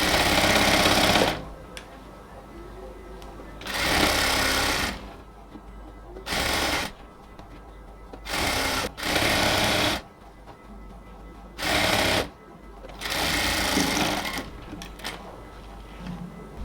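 A sewing machine stitches elastic onto a cotton salwar in a series of loud, close bursts. The runs vary in length, and quieter pauses come between them.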